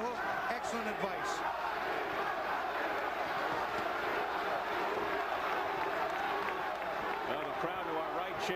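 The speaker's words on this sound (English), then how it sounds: "Now the crowd to our right chanting Green," A boxing arena crowd chants the fighter Green's name during a Joppy vs Green rematch bout, a dense, continuous roar of many voices with rhythmic shouting filling the whole stretch, no commentary over it.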